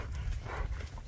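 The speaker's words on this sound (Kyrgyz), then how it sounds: "Атты өзүңүздөр көрүп турасыздар." A Kyrgyz horse's hooves clip-clop in a quick, close run of hits over a brief stretch, with no talking.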